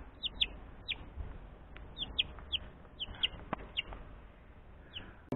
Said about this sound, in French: On peut reconnaître que c'est vraiment un poussin marrant.